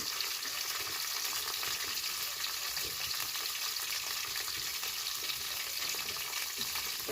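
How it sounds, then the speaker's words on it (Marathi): Okra frying in hot oil with mustard seeds, a dense steady sizzle that stays loud and even throughout, with light crackle and no talking. "आता आपण भेंड्या टाकू भेंड्यात आणि फ्राय करून घ्यायचे आपल्याला थोड्याशा"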